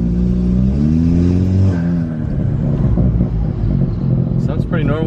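A 1.8T MK7 Golf engine with an IS20 turbo and high-pressure fuel pump swap revs and rumbles steadily while driving, with people talking over it throughout; a brief higher whine rises near the end.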